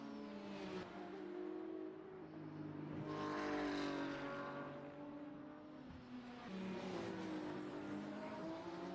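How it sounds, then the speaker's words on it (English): Hypercar engines roar around Spa-Francorchamps in a sim racing game, the whine rising and falling as cars pass and change gear, loud and continuous with no talk. "enjoy for a second the beautiful landscape together with the roaring engines of especially those hypercars"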